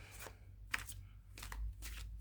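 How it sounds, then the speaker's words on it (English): A deck of tarot cards is shuffled by hand in a quiet room, soft papery riffles and flutters in a few short bursts over a low hum. "I'm going to shuffle one more time for good measure."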